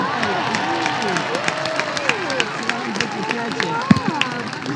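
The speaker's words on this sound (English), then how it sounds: "Different reaction from the crowd that time." Crowd in a baseball stadium reacting to a foul ball into the seats, a steady, dense wash of babble, scattered clapping and cheering under overlapping chatter throughout.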